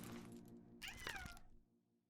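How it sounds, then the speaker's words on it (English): A cat meows once, a short, faint cry with a rising then falling tone, heard close amid quiet background sound that fades away afterward. "Don't just stand behind me and meow."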